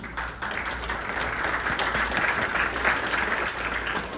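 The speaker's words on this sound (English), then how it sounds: "Let's all give Morgan a round of applause as she comes to the podium." Audience applause at a graduation ceremony, a steady wash of many hands clapping at even loudness from start to finish, with no clear voices.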